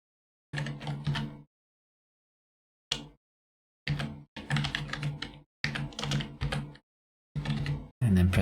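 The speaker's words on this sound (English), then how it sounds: "So I'm just going to select here and type in IP address that we saw" Bursts of key clicks on a computer keyboard as an IP address is typed, several quick clusters of taps separated by short pauses, close and clear with no talking.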